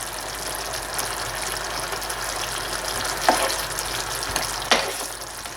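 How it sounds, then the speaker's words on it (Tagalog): Pieces of fish going into a simmering Filipino fish curry sauce, a steady sizzling bubble with two soft splashy stirs or plops standing out, without voices. "So, pwede na natin ilagay yung fish."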